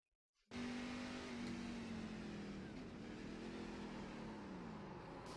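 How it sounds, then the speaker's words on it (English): Race car engine on Talladega Superspeedway in a racing video game, starting abruptly as a loud sustained roar whose pitch drops and wavers as it downshifts, close and continuous, with no talk. "You heard the downshift."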